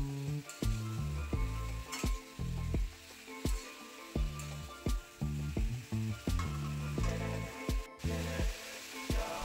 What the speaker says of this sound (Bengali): এখন আমি ঝিঙেটাকে খুব ভালো করে নাড়াচাড়া করে নেব তেলের সাথে।